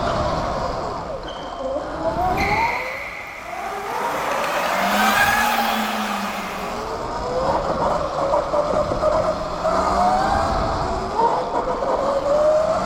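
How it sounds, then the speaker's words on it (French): Rear wheel of an electric supermoto spinning and sliding under acceleration on a karting circuit, a rising whine and tyre scrub sweeping up and down close by, with excited voices shouting over it. "l'accélération, ça patine"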